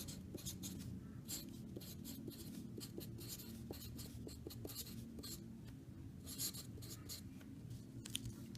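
Pen or pencil scratching steadily across paper while writing out an integral by hand, a continuous run of close, soft strokes and taps with no talking.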